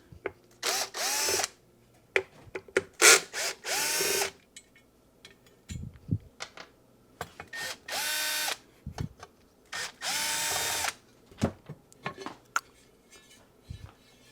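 A power drill whirs in repeated short bursts while removing four screws that bolt a rail into boxes, loud and close, with clicks and small metallic clatter between the runs.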